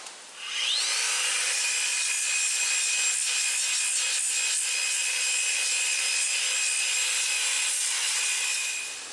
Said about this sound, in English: So I'm going to hit this a little bit more with that grinder before I go on to the next step